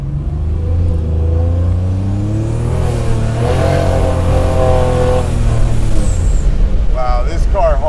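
A Buick Grand National accelerating hard, its engine note climbing steadily through the gears over several seconds, loud and close, with a voice briefly audible near the end.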